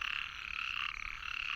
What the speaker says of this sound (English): you can hear the frogs are out